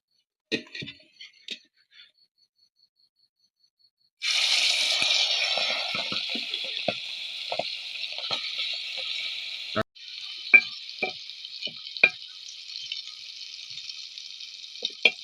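After a few seconds of near silence broken by small clicks, masala-marinated prawns hit hot coconut oil and a loud, steady frying hiss takes over, crackling and popping close by until the end.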